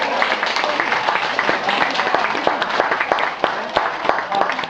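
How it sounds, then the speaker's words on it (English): An audience at a Gold Coast wildlife sanctuary show claps and applauds for several seconds, a dense, steady patter of hands close by. "Give Dylan a big clap"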